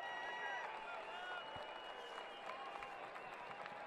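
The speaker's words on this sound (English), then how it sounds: "oohs and ahs from the crowd" A distant stadium crowd at a professional soccer match between Fresno FC and New Mexico United murmurs and swells in a sustained, faint roar after a shot goes just wide, with no clear individual voices standing out.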